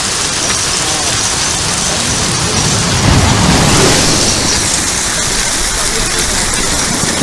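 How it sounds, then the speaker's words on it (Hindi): Heavy rain mixed with hail pelts down on a mountain road in Shimla, a dense, steady roar throughout with a swell of louder pounding midway, no voices. "बरसात के साथ बहुत तेज ओले गिरने शुरू हो गए"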